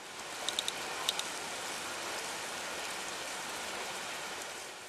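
Steady rain falling in Karachi, a dense, even hiss of drops filling the whole span, with a few faint sharp ticks early on and no voices.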